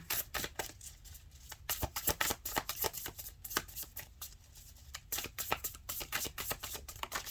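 Tarot cards are shuffled again and again, a quick crackling riffle of sharp paper snaps and slides that keeps a busy, uneven rhythm, close but fairly quiet.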